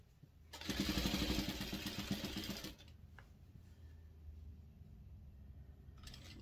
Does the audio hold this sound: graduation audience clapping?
no